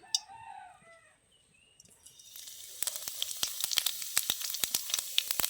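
Cumin seeds hit hot white oil in a kadai and burst into a crackling sizzle with sharp popping spits, loud and close, after a quiet start with a distant rooster crowing.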